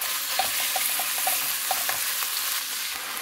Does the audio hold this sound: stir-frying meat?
yes